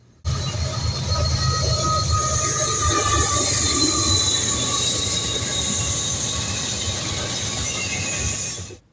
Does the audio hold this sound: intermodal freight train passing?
yes